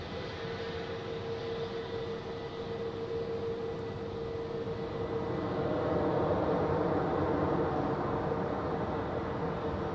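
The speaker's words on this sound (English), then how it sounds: "Some active reversers going on there." A landing airliner at Zurich Airport roars steadily under thrust reversers, a broad sustained rumble that swells slightly toward the end, heard alone without talk.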